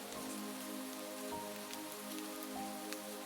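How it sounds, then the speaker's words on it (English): Steady pouring rain patters densely on a surface, an even, continuous hiss with soft calm music notes sustained beneath it. "the rain started to pour."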